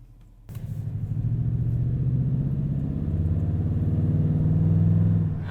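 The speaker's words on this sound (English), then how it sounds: "I will admit that exhaust sounds good" Toyota Tundra TRD Pro pickup truck exhaust starts up abruptly and then holds a steady, deep, throbbing rumble close by, swelling slightly near the end with no talking.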